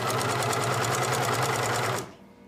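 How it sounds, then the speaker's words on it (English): A sewing machine stitches fabric at a steady, loud, rapid rhythm, running forward and reversing for a back stitch before stopping abruptly near the end. "So we are actually going to stitch a little bit, back stitch, stitch all the way down."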